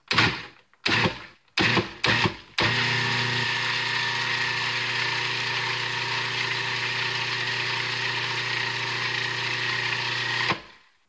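Electric stand mixer running steadily after a few short bursts, mixing a teaspoon of sugar into bread dough for a banh mi baguette, a loud continuous motor hum with no talk.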